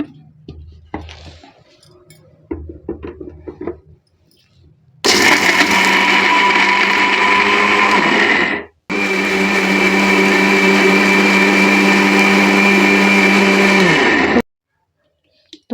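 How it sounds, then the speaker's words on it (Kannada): A kitchen mixer grinder coarsely blending peanut chutney for masala dosa runs in two loud whirring bursts, about four and six seconds long, with a short pause between, after soft handling clinks of the jar. "ಅದನ್ನು ಮಿಕ್ಸಿ ಮಾಡೋಣ ಅಂತ."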